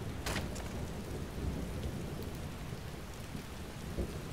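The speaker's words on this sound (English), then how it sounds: "I love when it rains. The ambience here is just perfect." Steady rain pours in the video game Skyrim, a dense continuous hiss of falling drops with low rumbling underneath, with no talk over it.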